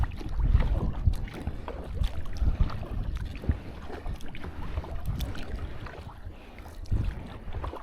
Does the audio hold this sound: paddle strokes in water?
yes